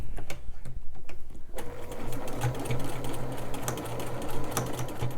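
A sewing machine stitches quilt pieces together for a fall harvest carrot block, its steady rapid whir running continuously and loud, close up with no talking.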